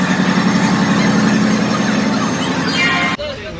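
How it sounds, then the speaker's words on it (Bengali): A passenger train pulls out of Howrah station with a loud, steady rumble and droning hum close by, cutting off abruptly near the end. "আর এখন জাস্ট আমাদের ট্রেন ছাড়লো সবে হাওড়া থেকে।"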